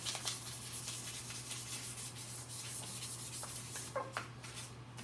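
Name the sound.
sanding with 800 grit sandpaper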